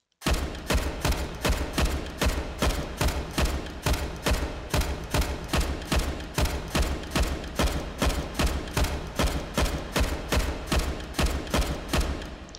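A G36 rifle fires in the VR shooter H3VR, about thirty loud, close single shots in a fast, steady rhythm, each one a sharp crack with a short tail and no talk.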